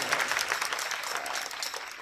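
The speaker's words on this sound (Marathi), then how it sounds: "जोरदार टाळ्या त्यांच्यासाठी." A crowd applauds at a Marathi kirtan for Shiv Jayanti, steady dense clapping throughout at moderate volume with no pauses.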